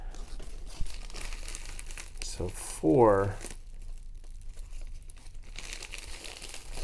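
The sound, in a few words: paper being unfolded and crinkled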